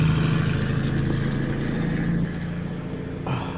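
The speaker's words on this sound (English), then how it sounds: "I'm outside, sorry about the truck noise." A truck rumbles past outdoors, a steady low engine drone with road noise that holds loud and close, then eases slightly as it moves on.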